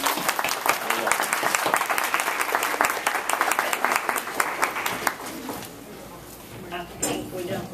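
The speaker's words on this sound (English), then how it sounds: "Could you please give her a warm round of applause?" A warm round of audience applause for an introduced speaker, dense and lively for about five seconds before quickly dying out into quiet room tone with a few stray claps and faint murmurs.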